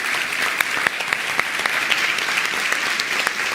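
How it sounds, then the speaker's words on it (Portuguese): Steady, dense applause from a large audience for a woman named Letícia at a live talk, continuous clapping with occasional sharper claps and no speech over it. "Uma salva de palmas para a Letícia."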